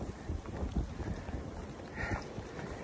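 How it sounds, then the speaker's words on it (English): Wind gusting across a hiker's microphone on the Appalachian Trail, a steady low rumbling buffet that swells and eases over a few seconds with no talk. "Here comes the wind."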